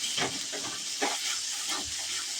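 Chopped ginger frying gently in a pan over a low gas flame gives a steady, soft, close hiss with a few faint scrapes and taps of stirring.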